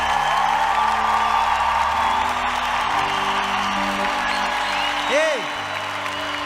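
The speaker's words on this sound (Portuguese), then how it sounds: "Pode aplaudir, pode aplaudir." A church congregation applauds during a worship service, a steady wash of clapping and crowd noise with voices mixed in that fades near the end.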